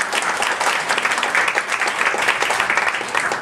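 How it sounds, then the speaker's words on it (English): Audience at a scholars' lunch panel giving a round of applause, dense close clapping from many hands, steady and lively throughout. "One more round of applause."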